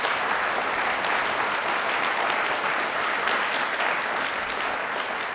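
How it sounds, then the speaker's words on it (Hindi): Loud, sustained applause from a large crowd at a university engineering event, steady clapping filling the whole stretch without a break. "प्लीज एक बार जोरदार तालियां वापस से हो जाएं"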